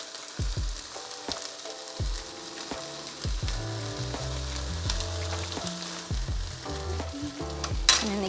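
Pad See Ew noodles with sauce being stir-fried in a pan: steady sizzling frying noise broken by repeated scraping and clacking strokes of a utensil through the noodles, close and fairly loud, with no speech.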